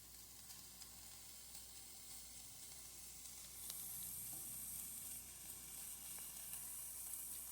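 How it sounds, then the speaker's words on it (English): Soft, steady sizzling of a chickpea omelette in a frying pan, a quiet continuous hiss that grows slightly louder midway, with faint crackles and no talking. "So it's starting to sizzle just a little bit."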